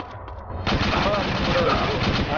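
Dense automatic gunfire from the video game DayZ, a rapid continuous rattle of shots filling the clip, with a voice talking underneath.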